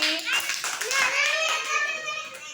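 A group of young children claps together for a classmate during a classroom activity, with quick hand claps mixed under lively, overlapping children's voices.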